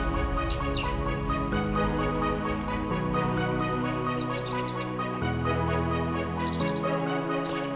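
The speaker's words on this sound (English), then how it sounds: "Hear the birds? That's because we're in the middle of nowhere." Wild birds in a remote mountain forest on Madeira chirp in quick, bright bursts and short trills, repeating throughout over a sustained low drone, with no talking.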